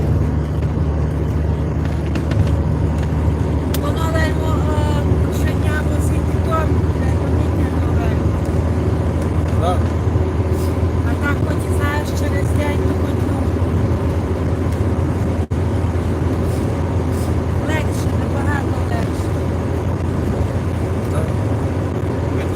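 A tractor's engine drones steadily and loudly throughout a bumpy ride, with a low rumbling hum. People talk over it the whole time.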